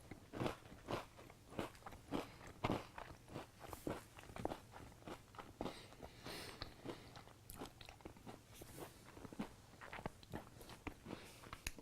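Doritos Crunch Nuts, flavored peanuts, being crunched and chewed up close, with a steady run of sharp, crisp bites and grinding chews repeating over several seconds and no talking.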